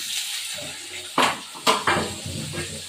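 Sliced onions tumble into a hot pan for a spiced chicken curry, with a few sharp clatters of utensil on metal over a low, steady hiss of oil.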